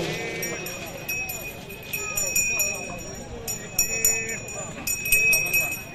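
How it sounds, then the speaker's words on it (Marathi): A pair of bullocks gallops in a village-category bullock cart race at Devrukh in Konkan, their hoofbeats clattering rapidly in an uneven rhythm alongside bell jingles, under a commentator's excited talk and crowd noise. "अतिशय सुंदर बैल पळतात बघा."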